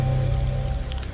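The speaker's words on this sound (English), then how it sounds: "rainy, stormy days like this." Rain falling in an elm woodland on a cold, damp, stormy day, a dense steady patter of drops with a low hum beneath, close and fairly quiet, with no talk.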